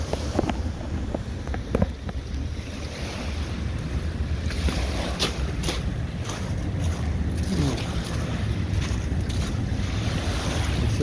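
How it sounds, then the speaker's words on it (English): Ocean swell washes over a rock on the wild South Westland coast of New Zealand, giving a steady, broad roar of surf and wind close to the microphone with occasional sharp knocks. "that swell's washing right over the rock"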